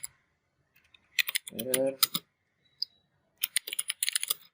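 Keys clatter on a computer keyboard in quick bursts of close tapping, broken by brief pauses, with one spoken word from a voice in the middle.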